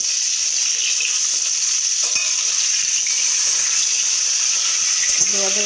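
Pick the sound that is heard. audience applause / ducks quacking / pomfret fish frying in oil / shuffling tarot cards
pomfret fish frying in oil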